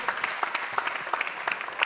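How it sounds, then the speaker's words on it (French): Audience at a French comedy show breaks into a short burst of lively clapping, dense and steady, fairly close, with no voices over it. "on peut applaudir Donald Google"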